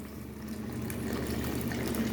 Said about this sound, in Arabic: دابا نروي بالماء سخون